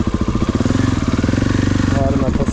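A Husqvarna 701 supermoto fuel-injected motorcycle engine runs steadily up close, its dense rapid firing pulses loud and continuous, with a slight change in tone near the end.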